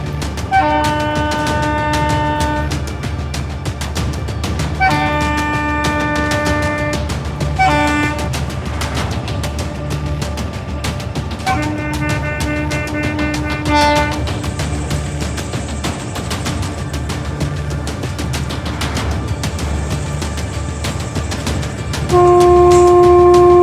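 Long, loud train horn blasts repeating in bursts over steady rumbling rail noise, close and sustained, ending with a final held tone, as a train sounds its horn at cattle standing on the tracks.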